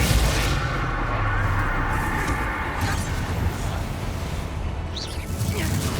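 Confringo fire spells blasting and exploding during the final boss fight in Hogwarts Legacy, a dense, loud barrage of booming impacts layered with crackling fire that runs continuously throughout.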